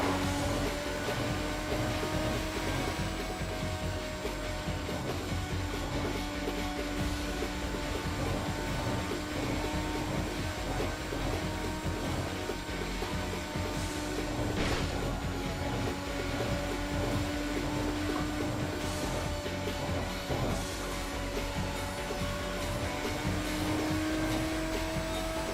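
A car engine in the Tokyo Xtreme Racer video game drones steadily and evenly for the whole stretch, a constant whirring hum with slight pitch shifts and no talking.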